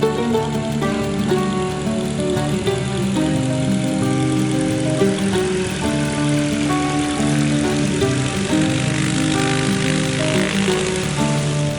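Bucker Jungmann biplane with its propeller engine running steadily on the ground at an airfield on a cold day, a loud continuous droning hum with a pulsing rotary texture throughout.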